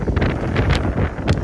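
Strong wind blows across the microphone aboard a sailboat at sea, a loud, continuous rushing buffet with gusty swells.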